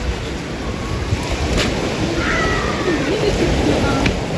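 Steady wash of sea surf on a sandy Aegean beach and wind rumbling continuously, with faint distant voices mixed in the background.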